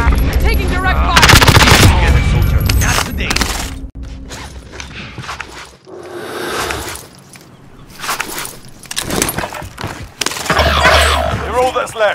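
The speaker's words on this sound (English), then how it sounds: "Taking direct fire." Automatic gunfire in Call of Duty Modern Warfare on Rebirth Island, loud bursts of rapid shots with mechanical clatter, heard repeatedly across the scene alongside in-game voice callouts.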